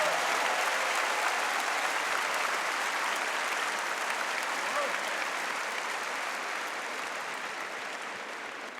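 Sustained audience applause from a live crowd at the Zlatna Bubamara 2022 event, a dense even wash of clapping that fills the whole stretch and slowly fades a little toward the end.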